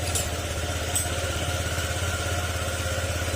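A Honda Click 125 scooter engine idles steadily up close, a fast even putter with a faint mechanical ticking, running alone with no talk over it.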